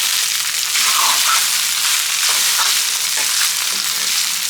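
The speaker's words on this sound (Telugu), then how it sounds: "ఒకసారి కలుపుకుందాం." Cooked rice is stirred into curry leaves and chillies frying in a pan for ajwain rice. A loud, dense sizzle is overlaid by repeated scraping and stirring strokes, close up and without speech.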